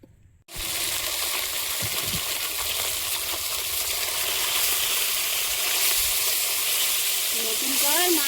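Fish sizzles in oil in a new wok (kadai), a loud, steady frying hiss that begins abruptly after a brief quiet start and continues unbroken, with small crackles and spatters throughout.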